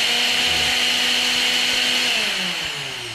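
Loud, steady high-pitched whine of a mixer grinder motor running smoothly after its carbon brushes were replaced, continuous and close, with the pitch drifting slightly and easing off toward the end.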